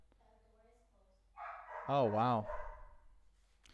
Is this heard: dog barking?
yes